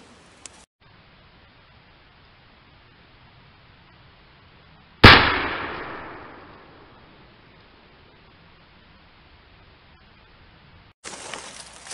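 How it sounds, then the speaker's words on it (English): A single loud black-powder shot from a canoe gun fired at a target about fifty yards away outdoors, a sharp blast with a long fading echo against quiet surroundings. "it appears I missed with the first shot with the canoe gun"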